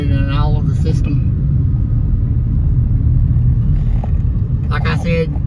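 A car cruises through a quiet subdivision after a brake fluid flush, its steady low road rumble and engine drone continuous and close, with a voice speaking briefly at the start and near the end.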